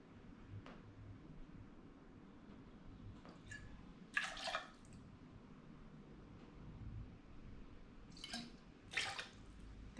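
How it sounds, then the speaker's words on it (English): Gin is poured into a measure for a Seventh Heaven cocktail, heard as two short, quiet liquid splashes several seconds apart over a faint low background hum. "There goes the gin, and you already see that it's going to be a very nice color."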